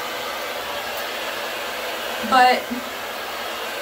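A handheld blow dryer drying hair, angled downward, blows a steady, close airy roar through the whole stretch, and a brief voice cuts in near the end.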